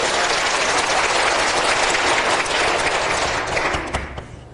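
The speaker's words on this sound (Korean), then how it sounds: "우리 하나님께 감사의 영광의 박수 힘차게 하고 싶다." A church congregation gives a strong round of applause: loud, dense clapping that holds steady, then thins out and fades over the last second.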